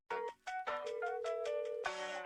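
A bright electronic phone ringtone melody plays in clear stepped tones at the start of a K-pop song, loud and close with no voices over it.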